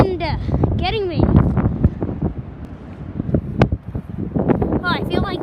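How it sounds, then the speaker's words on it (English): Strong gusting wind in Maryland buffets an outdoor microphone with continuous low rumble and roar, while a person exclaims and talks excitedly over it. "Wind getting me."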